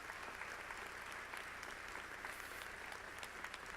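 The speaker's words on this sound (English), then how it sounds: "Give yourselves a round of applause for the American dream" Audience at a university medical school graduation ceremony applauds steadily, a dense wash of many hands clapping at an even level throughout, fairly distant and without a break.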